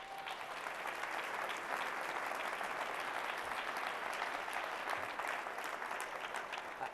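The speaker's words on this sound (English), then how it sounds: "You can applaud now." An audience at a county State of the County address applauds steadily, a broad, even roar of many hands clapping for about seven seconds, fairly distant in a large hall, with no speech over it.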